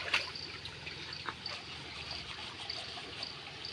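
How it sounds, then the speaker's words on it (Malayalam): A small village stream trickles and gurgles softly and continuously over stones, with faint scattered splashes and no voices. "ഞങ്ങളുടെ തോടൊരു ചെറിയ തോടാണ് കേട്ടോ"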